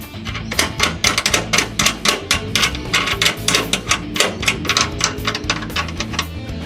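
Bolt being fitted on a DIY spare tyre holder, a rapid series of sharp metallic clicks and taps, close and steady, like a ratchet or wrench working the bolt, with no voices.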